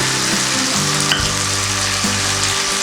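Carrots and tomato cooking in a pan for paneer kurma, a loud, dense, continuous sizzle close up, with faint low hum beneath and no voices.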